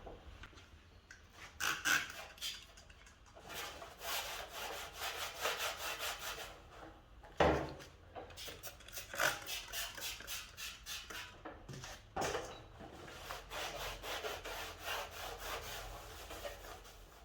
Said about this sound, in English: So I just took some sandpaper on a block, and on the inside I just sanded over the damaged areas